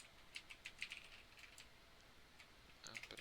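Quick bursts of keystrokes on a computer keyboard, a cluster of crisp clicks at the start, a short pause, then another flurry near the end, close and fairly quiet with no talking.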